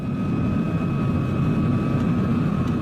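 An airplane drones steadily overhead as an even, constant rumble with a faint tonal hum, unchanging across the whole stretch and with no speech.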